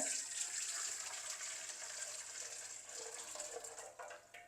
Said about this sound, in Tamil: இந்த கருப்பட்டியை நான் வடிகட்டுறேன் இந்த தாச்சிக்கில்.